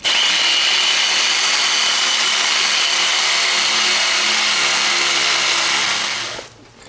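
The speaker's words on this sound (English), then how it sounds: "Then I'm getting my hammer drill with a masonry bit and drill down." A hammer drill with a masonry bit grinds steadily and loudly into stone steps, running continuously for several seconds before winding down at the end.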